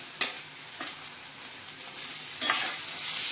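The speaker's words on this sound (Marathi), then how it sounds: "आता आपण त्याच्यामध्ये बारीक केलेलं वांग टाकूया." Roasted eggplant, mashed fine, is tipped onto fried onion in a pan and stirred for Maharashtrian vangyache bharit, giving soft scrapes, a few sharp knocks and a low, steady sizzle with no talk.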